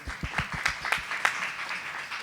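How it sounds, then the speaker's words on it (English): Applause from a small audience at a film industry seminar, a handful of distinct, close claps standing out over a thinner spread of clapping that fades after a couple of seconds. "I think you need a round of applause for taking that next step in incentives"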